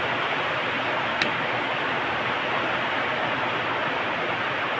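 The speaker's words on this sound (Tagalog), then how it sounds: "Yero ang bubong kaya maingay ang ulan." Heavy rain drums on the corrugated iron roof of a house in a steady, dense roar that does not let up. One brief tick stands out near the start.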